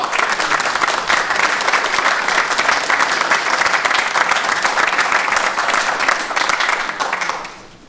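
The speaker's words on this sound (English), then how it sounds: "A huge round of applause." A large crowd at a college graduation ceremony bursts into sustained, dense applause, loud and steady for several seconds before fading out at the end.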